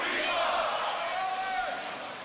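A crowd at a beatbox battle semi-final roars and cheers together in one sustained, loud burst, a dense wall of voices with yelling on top.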